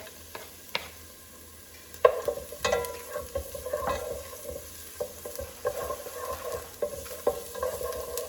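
Onions and garlic sauté in a pan for a mushroom and cauliflower rice risotto, with a low sizzle under repeated scraping and stirring strokes and sharp clinks from the utensil at irregular moments.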